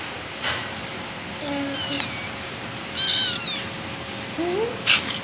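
A small new pet cat gives a few thin, high meows indoors, spaced out over several seconds against a steady background hum.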